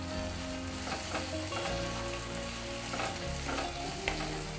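Ginger paste frying in a pan during a soybean curry, giving a steady, fairly loud sizzle that continues without a break, with a few soft stirring scrapes and background music playing throughout.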